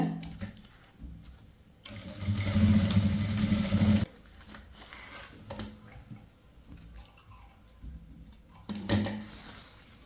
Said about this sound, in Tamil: 2 பக்கமும் அரை இன்ச்சு இருக்கிற அளவுக்கு வச்சுட்டு தையல் போடுங்க